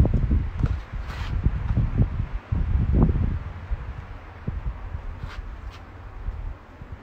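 Wind blows across an outdoor cookout where picanha is spit roasting, a gusty low rumble against the microphone with rustling that eases off after a few seconds; no voices are heard.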